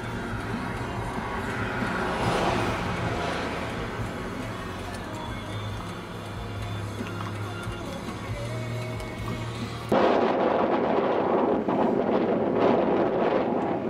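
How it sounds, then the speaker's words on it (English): Gusty wind at Lake Tahoe buffeting the microphone, loud and continuous, with a low rumble underneath and a sudden surge toward the end. "It's really windy now"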